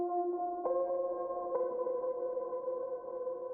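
An Atmos piano sample plays from music software, giving a few soft, mellow chord strikes that sustain and fade gently, quiet and alone.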